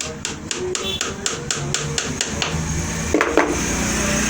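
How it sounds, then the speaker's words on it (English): Steady, rhythmic hammer taps drive a nail into a shoe about twice a second against a constant background hum, followed by a couple of heavier knocks. "then you hammer it down."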